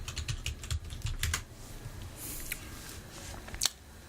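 Computer keyboard keys tapped in short bursts while naming a Photoshop layer, light clicks clustered early then sparse, close and soft with no talk.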